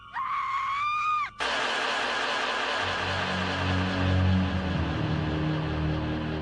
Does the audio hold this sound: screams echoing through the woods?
yes